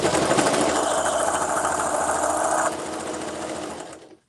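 A sewing machine stitching a zipper tote bag runs in a steady fast whirring rattle, close and loud, easing slightly before stopping at the end.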